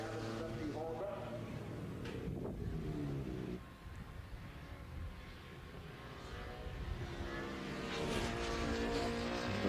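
A Honda VFR 750 motorcycle racing at a classic bike festival, its engine note rising and falling as it passes, with a race commentator talking over it throughout.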